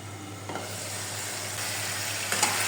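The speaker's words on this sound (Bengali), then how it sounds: "এগুলোকে ভালো করে নেড়েচেড়ে কষিয়ে নেব।" Chicken, tomato and salt for chicken khichuri stirred and frying in a pan, a steady close sizzle with faint scraping of the spoon over a constant low hum.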